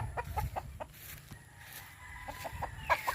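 Chickens cluck in a scattered series of short calls, fairly faint and a little distant, over a low rumbling background.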